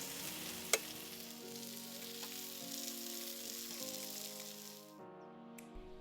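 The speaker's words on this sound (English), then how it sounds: "It's going to be all put together as like a satay stir fry with noodles." Noodles, beef strips and satay veggies stir-fry in a pan with a steady, close sizzle throughout, a single sharp clank early on, and the frying briefly dropping quieter near the end.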